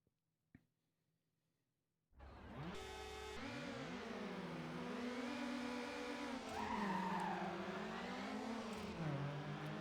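Peugeot race car in a racing video game: a brief click, then the engine bursts in loud and revs with shifting pitch while the tyres skid and squeal continuously, close and sustained.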